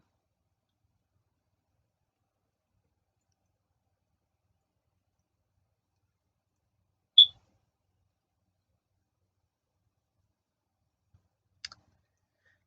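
Two isolated, faint computer mouse clicks several seconds apart, each a single sharp tick against near-total silence.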